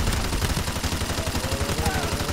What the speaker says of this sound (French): tirer sur tout le monde comme ça et entendre le bruit de l'arme